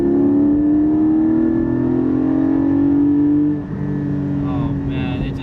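A Porsche Cayman 718 GT4 revs hard through a gear, its rising engine note climbing loudly from inside the cabin, then shifts and drops before pulling again.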